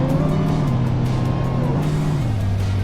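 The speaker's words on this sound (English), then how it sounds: "Loud motor." Loud vehicle motor in the farming video game Farming Simulator 25, a continuous rough engine roar with a droning pitch that dips slightly, close and steady with no talk.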